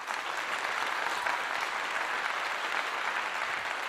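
Steady applause from a group, a dense even wash of clapping that holds for several seconds without pause and with no voices on top.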